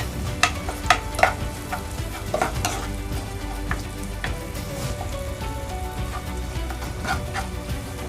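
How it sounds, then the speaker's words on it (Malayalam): Squid fry with onions being stirred in a pan, a spoon scraping in a few sharp clinks early on over a steady close sizzle that continues throughout, with no talking. "നന്നായിട്ട് ഇളക്കി കൊടുക്കാം."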